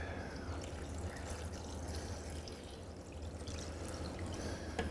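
Water is poured steadily into a stock pot holding browned beef bones, vegetables, lemons and parsley stalks, a continuous soft rushing wash over a low rumble, unbroken for the whole stretch with no voices.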